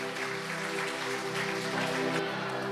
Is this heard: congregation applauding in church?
yes